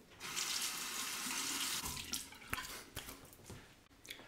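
Tap water runs steadily while rinsing after a shave with an Alpha Spirit SE razor, a continuous close splash that thins out and breaks into intermittent drips and small splashes toward the end.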